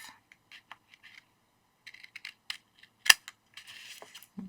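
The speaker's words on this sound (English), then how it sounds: "let me get my scissors. I'm just going to trim that off." Scissors trimming excess paper from a scrapbook calendar page, a series of short crisp snips and faint rustles with pauses, one sharper cut near the end, close and quiet with no talk.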